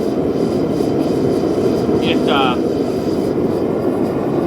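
A homemade gas forge burner for blacksmithing roars steadily as it heats up, a loud, constant broadband rush filling the whole clip, with a brief faint tonal chirp partway through.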